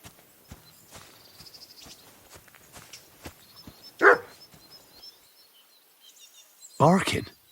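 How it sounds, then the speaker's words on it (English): A dog barks twice in a medieval village setting in Kingdom Come: Deliverance II, one sharp bark near the middle and another loud burst near the end, over quiet game ambience with soft footsteps. "Barking."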